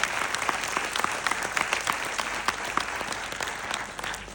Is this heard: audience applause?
yes